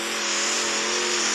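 Upgraded car engine in a racing video game screams at high revs with the gas held down, a loud, continuous, steady whine filling the moment.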